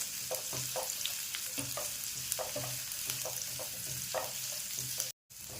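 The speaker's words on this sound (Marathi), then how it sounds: "एक दोन ते तीन मिनटं चांगला परतून घ्यायचा आहे लालसर होईपर्यंत" Onion sautés in a pan until reddish for a veg Kolhapuri, a soft steady sizzle with many light spatula scrapes at an irregular pace, then a brief cut to silence near the end.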